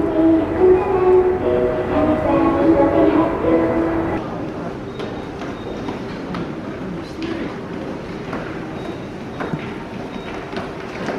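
Seoul subway train interior: a steady low rumble of the moving carriage with faint clicks and rattles, louder for the first few seconds and then settling to a quieter ride, people talking faintly in the background.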